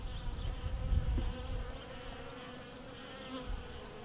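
Honeybees fly around their hives on a cold, snowy day, making a continuous soft buzzing hum of many insects nearby, fairly quiet and steady.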